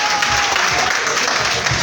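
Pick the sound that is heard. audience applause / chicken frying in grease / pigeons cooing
audience applause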